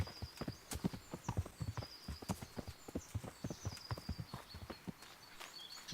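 Horse hooves clip-clop in a quick, steady galloping rhythm through a hunting ride in Kingdom Come: Deliverance, close and loud, with a brief whinny and faint bird-like tones overhead.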